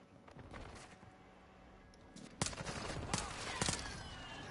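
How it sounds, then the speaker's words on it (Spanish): Faint bursts of gunfire crack from a floor above in the video game Warzone 2.0, a few scattered sharp shots against a steady, hissing background. "se escucha tiros arriba"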